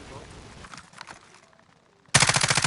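Automatic gunfire in Call of Duty: Warzone, a sudden loud burst of rapid shots arriving near the end after quieter game sounds and faint background voices.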